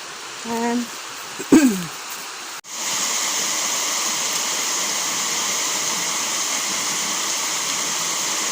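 A river flows nearby on an outdoor walk, a steady loud broadband rush of water that starts abruptly and holds constant to the end, following a few seconds of quieter outdoor sounds.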